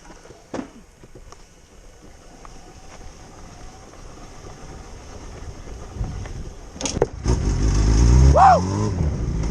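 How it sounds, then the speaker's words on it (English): A Yamaha R1 motorbike bump-started by pushing, its engine catching near the end and revving loudly up close, with shouting voices over quieter shuffling and rolling beforehand. "So I guess we're going to have to bump start this bad boy."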